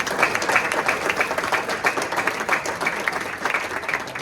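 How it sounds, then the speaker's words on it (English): Audience applause at a National Hunt breeders' awards evening as a trophy is presented, a full, lively burst of clapping from a crowd, sustained and fairly loud throughout. "Big round of applause."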